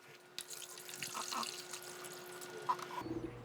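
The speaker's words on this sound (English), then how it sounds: "we're gonna fill it up with water." Water pours into an AeroGarden indoor hydroponic herb garden, a steady trickle with a few small splashes, close and fairly quiet, ending in a soft thud near the end.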